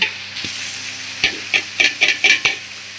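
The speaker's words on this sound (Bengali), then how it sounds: "এবার চালগুলো ঢেলে দিব।" Rice goes into a pan of sizzling fried onions and meat and is stirred, giving a close, steady fry hiss broken by a series of scraping stirring strokes, with no talk.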